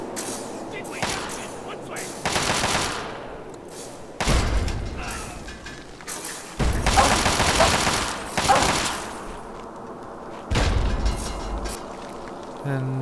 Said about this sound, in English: Actually, this seems like a case for